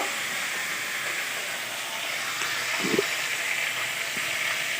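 Okra frying in a pan with salt added: a steady, loud hiss and sizzle that runs the whole way through, with a soft utensil bump near the middle.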